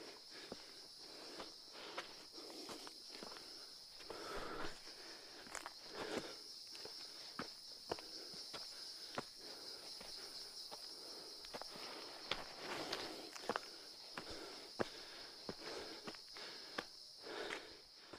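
Dense jungle near Nainital, Uttarakhand, with a constant high insect drone and irregular footsteps crunching on a steep forest path, all close and fairly quiet.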